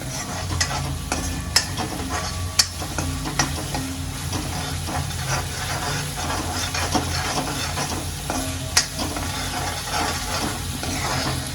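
Masala paste frying in oil for a cluster-bean curry while a spatula stirs it, giving a steady close sizzle broken by repeated scraping and clicking strokes against the pan, with no voices.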